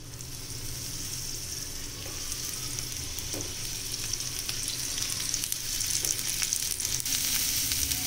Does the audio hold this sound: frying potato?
yes